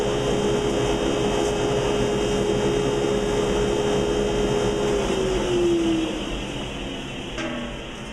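A small-shop vacuum with a dust separator on a woodshop cart runs with a steady, loud motor whine and airflow roar. Its tone drops slightly near the end as the machine begins to wind down.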